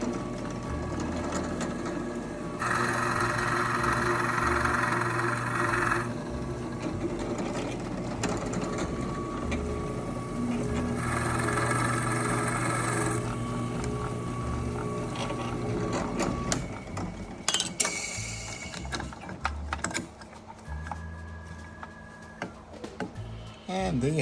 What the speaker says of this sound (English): Little holes drilled right through it